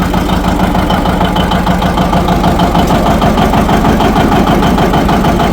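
A warmed-up John Deere 730 tractor engine runs steadily, a loud, close, even throbbing drone that holds without a break and with no voices over it.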